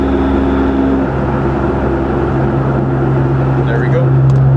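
A BMW G80 M3 idles in comfort mode with its exhaust valves closed, producing a steady, muted low drone that holds constant throughout without revs.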